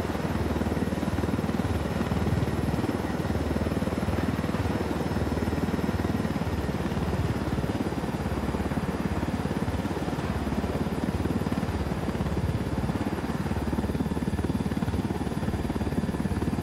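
Supply helicopters flying over a rebel area in the video game Ghost Recon Wildlands: a steady, loud rotor and engine drone holds evenly throughout, with no talk over it.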